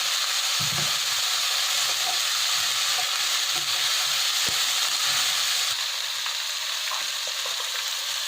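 Half a spoon of ginger garlic paste fries in a pan of samosa filling, giving a continuous bright sizzle with faint stirring clicks underneath, steady and close.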